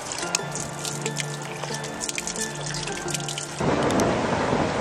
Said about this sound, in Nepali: पानी पऱ्यो पानी पऱ्यो